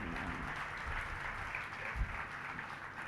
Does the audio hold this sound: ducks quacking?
no